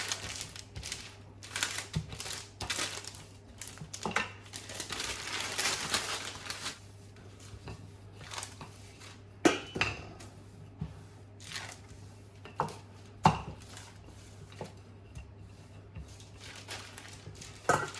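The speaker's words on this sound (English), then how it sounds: "And another piece of baking paper. And then just roll that out into your pizza base." Low-carb pizza dough is rolled out between two sheets of baking paper, with faint crinkling, rustling and soft tapping against a steady low hum, close but quiet.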